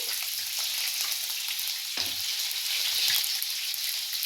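Chopped garlic, broken Byadgi chilli pieces and finely chopped onion sauté together in oil, a dense continuous close sizzle with occasional soft scrapes of stirring.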